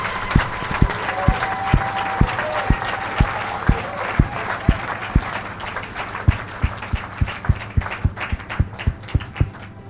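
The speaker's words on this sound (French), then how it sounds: "Acclamons très fort le Seigneur." A church congregation applauds the Lord in rhythmic unison, sharp steady claps landing roughly every half second and quickening toward the end over a background of voices and hall reverberation.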